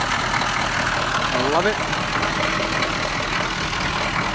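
A 1984 Chevrolet K10 pickup with a 6.2 diesel idles low and steady, a dense continuous rumble close by, while a voice speaks briefly over it.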